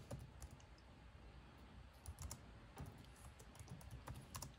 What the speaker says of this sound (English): I'm gonna just type anything